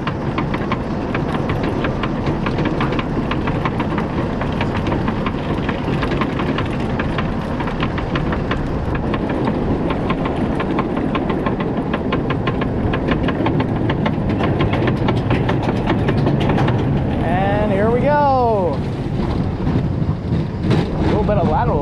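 A Freestyle TOGO standing roller coaster at Cavallino, heard from on board: a loud, constant mechanical rumble and wind roar runs throughout, with a voice rising near the end.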